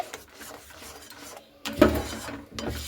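Raw mango pulp stirred in a pan over a low gas flame, a close scraping and rasping with a louder burst of scraping near the end.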